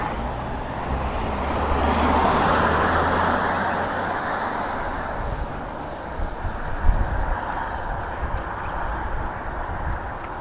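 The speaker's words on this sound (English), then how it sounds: "they're even gonna wait till these cars pass." Cars pass along a street in Spain as a broad, steady traffic rumble that swells and fades, loud and close, without speech.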